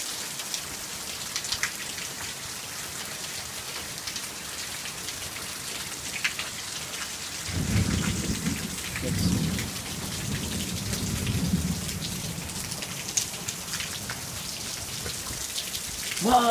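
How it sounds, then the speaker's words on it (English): Steady rain pours down, with a deep roll of thunder rumbling in partway through and lingering before fading, no voices heard. "I didn't get the lightning, but I'm gonna get the thunder."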